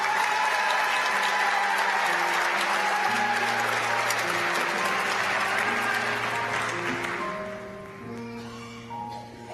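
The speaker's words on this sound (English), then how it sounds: "Let's give one more round of applause for all of the members of the class of 2019." Sustained audience applause for a graduating pharmacy class of 2019, loud and dense for most of the clip, with organ-like sustained tones underneath, before the clapping fades away near the end.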